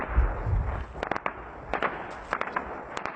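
Gunfire from army practice near Palmyra's Roman ruins in Syria, heard as scattered sharp cracks and short bursts echoing at a moderate distance across an otherwise quiet setting.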